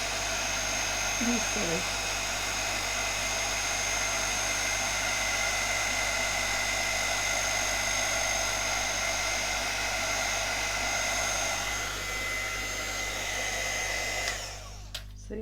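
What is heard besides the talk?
heat gun blowing on acetate for stamp embossing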